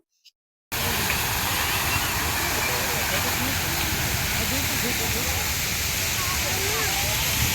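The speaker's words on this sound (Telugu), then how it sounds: "ఎంటర్ అవ్వగానే వాటర్ ఫాల్ ఎంత బాగుందో అసలు" A waterfall at Lumbini Park in Hyderabad on a rainy day, a loud continuous rushing roar of falling water that starts abruptly after a brief silence and holds steady throughout.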